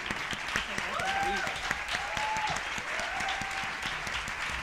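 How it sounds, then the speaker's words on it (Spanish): Audience applause at the closing gala of a film festival as a short-film prize winner comes up to collect the award; steady, dense clapping fills the whole stretch at moderate loudness, with faint voices calling out within it. "un aplauso para Eli, que viene a recoger este premio"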